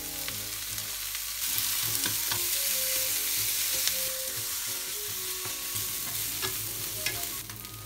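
Meat frying with onion and carrots in a pan for yakisoba, a steady close sizzle with stirring scrapes and occasional clinks, alone without speech.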